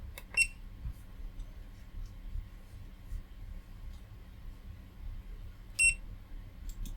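FNIRSI LCR-P1 component tester testing an SMD inductor gives two short, high electronic beeps, one near the start and one toward the end, over a faint low background hum.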